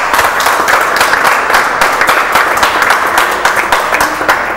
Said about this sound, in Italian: Salutiamo tutto lo staff di Ganci con un vostro applauso.